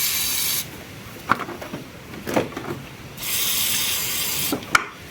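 WD-40 aerosol sprayed onto wiring grommets and connectors of an Alfa Romeo 33 1.7 16v Quadrifoglio, heard as two long, steady hisses near the mic separated by a quieter pause with a few faint rubbing and clicking handling noises.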